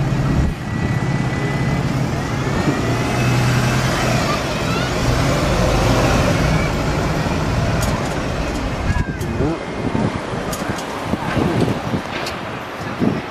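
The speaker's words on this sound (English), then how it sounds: "There's my sister's bus going now." A bus pulls away from Haymarket bus station, its engine rumbling under wind noise and passing traffic, the sound rising then fading as it leaves, with a voice talking nearby.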